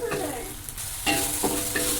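Spice paste and side ingredients being stir-fried in a pan for sweet soy sauce eggs, with a steady loud sizzle and occasional scraping stirs, no talk.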